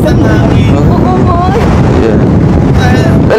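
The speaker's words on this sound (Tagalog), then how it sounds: "Grabe, lakas ang hangin." Strong wind buffets the microphone outdoors in a loud, continuous roaring rumble, with people's voices faintly audible through it.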